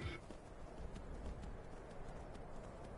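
A horse gallops in the video game Skyrim, steady hoofbeats drumming continuously at close range with no talk over them.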